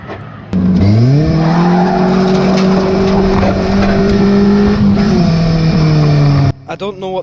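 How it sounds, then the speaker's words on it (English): A race car on an oval racewall track gets clipped from behind and spins into the infield, its engine droning loud and steady through the slide, with tire skidding beneath, before cutting off abruptly near the end. "the back end of my dad's car gets clipped and he gets spun right out into the infield"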